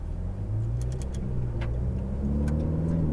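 A Ferrari 488 GTB on a racetrack climbs through the revs, its engine note rising in steady tones before a brief dip at the upshift and a renewed climb, close and moderately loud, with no talk.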